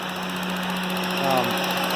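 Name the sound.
Honda K24 engine idling in swapped Honda Insight with exhaust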